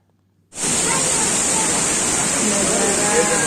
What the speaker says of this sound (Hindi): झरने की साउंड काफ़ी दूर से आती है।